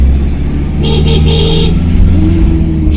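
A vehicle drives along the steep mountain road to Kedarnath, its engine a loud, steady close rumble with faint higher tones passing over it.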